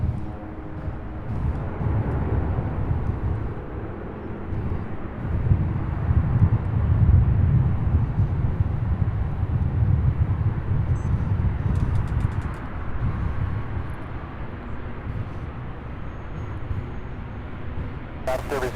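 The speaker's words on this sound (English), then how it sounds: "we'll get our first C-130 takeoff from this vantage point" Lockheed C-130 taking off at an airport, a steady deep turboprop rumble that builds and holds loud throughout, with faint voices mixed in.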